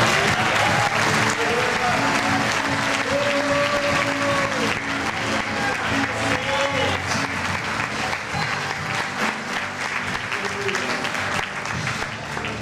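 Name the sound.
congregation applauding in church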